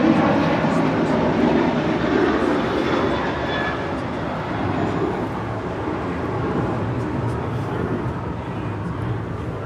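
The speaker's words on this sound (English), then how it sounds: "That is Alaska 1446 departing to Los Cabos on a 737-800" An Alaska Airlines Boeing 737-800 departs LAX bound for Los Cabos, a broad sustained jet engine roar heard from a distance, steady and even across the whole stretch with no talk over it.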